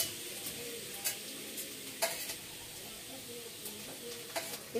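Garlic tempering in hot oil: a soft, low sizzle with occasional sharp taps and clinks of a spoon against the pan, faint and close.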